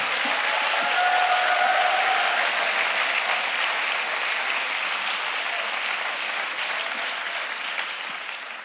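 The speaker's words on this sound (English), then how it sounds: "So let's give him another round of applause" Steady, full audience applause in a hall during a parliamentary member's speech on academic excellence, dense clapping that holds evenly and tapers slightly at the end.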